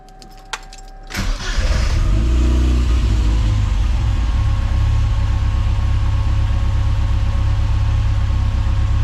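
A Mini Cooper S engine with a rough idle cranks and catches, then settles into a loud, steady idle with a constant low rumble that continues to the end.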